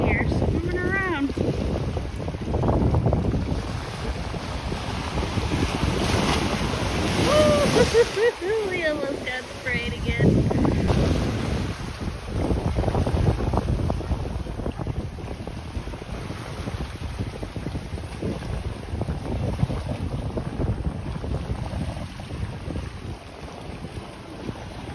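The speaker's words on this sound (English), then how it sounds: "I think these are tenders going out to this cruise ship" Boats motoring across open water off Big Island, Hawaii, with waves and heavy wind buffeting the microphone, a steady rushing wash throughout and people talking intermittently over it.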